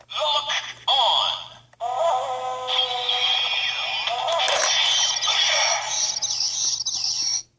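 A Kamen Rider lock seed candy toy lets out an electronic creature noise, a bright warbling, chirping synthetic call that runs for several seconds close to the microphone after a short opening burst.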